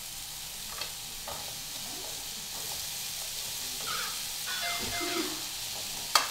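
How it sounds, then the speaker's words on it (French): Apples frying in a little melted butter in a pan, a soft steady sizzle and crackle with a few faint clicks, ending in a sharp knock. "J'ai pu faire fondre un petit peu de beurre. Et là en fait on va juste ajouter les pommes"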